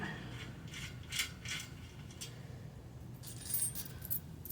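Ratchet tightening a locking nut on a Harbor Freight hitch cargo carrier, heard as several short bursts of quick metallic clicking over a low steady hum, fairly close, with pauses between strokes.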